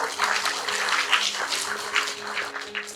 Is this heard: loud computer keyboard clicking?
no